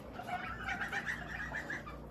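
Soft, continuous clucking and peeping from several month-old chicks nearby, steady and busy without pauses.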